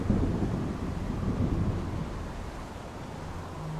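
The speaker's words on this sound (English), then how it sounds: "So anytime that you hear thunder, a storm is coming." Thunder in The Solus Project rolls as a deep, continuous rumble under a wind-like hiss. It stays fairly loud and steady, fading slightly toward the end, with no talk.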